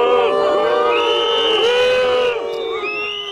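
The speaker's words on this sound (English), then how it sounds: "Factory workers whose jobs are under threat booed Mr. Macron." A crowd of factory workers whose jobs are under threat loudly boos and jeers at Macron, many voices overlapping in a sustained, dense roar of shouts and whistles close up, fading slightly near the end.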